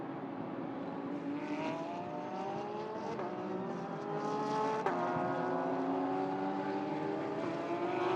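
A brand new race car runs at the Sepang 12-hour race, its engine note rising through the gears in repeated climbs, heard at moderate distance with no talk.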